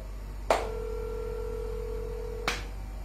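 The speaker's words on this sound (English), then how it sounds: "when the US ringtones always like that" A US telephone ringback tone sounds as one steady two-second tone, opened and closed by faint clicks, over a low background hum.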